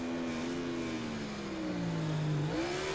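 Rival Marquez's racing motorcycle engine in MotoGP 19 drones steadily behind, its pitch sliding down then jumping back up as gears shift, loud and continuous with no talk.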